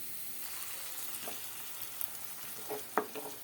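Tomato puree fries with onions in a pan, giving a quiet, even sizzle with a few soft stirring scrapes and one sharper clink near the end; no speech.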